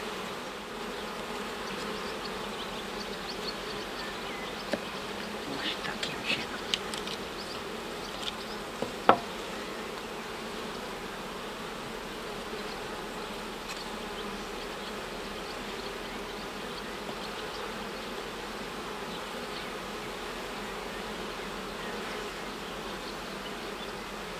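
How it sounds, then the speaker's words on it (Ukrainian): A dense, steady buzz of many honey bees on hive frames drones continuously close by, with a few faint knocks partway through. "Не хочуть покидати бджоли рамки, вони тут з їхнім нектарчиком."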